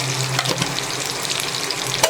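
Ginger garlic paste with a little salt sizzles and fries steadily in a pan over a low flame while being stirred, a continuous close crackle with faint scraping.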